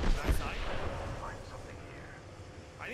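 A heavy blast of gunfire in an Apex Legends match, one loud boom up front that rumbles and fades over the next few seconds, with faint game effects at the end and no clear talk.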